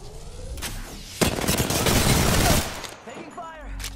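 Heavy automatic gunfire from the Apex Legends video game rattles loudly in a dense burst lasting over a second, then fades into scattered game effects while a player talks.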